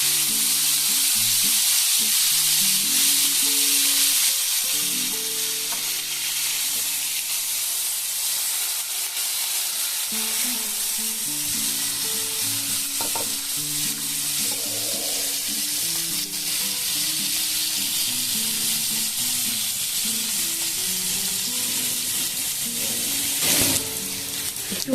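Chopped onion and black cumin (nigella seeds) sizzle steadily in hot oil, a close, continuous frying hiss that holds throughout with faint stirring clatter.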